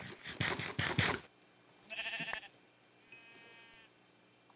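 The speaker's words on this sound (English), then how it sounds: "My sheep!" Sheep in a farming video game bleat in a few loud, close bursts, followed by softer, higher calls and quiet gaps.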